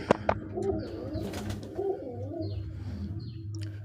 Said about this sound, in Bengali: কত সুন্দর কবুতর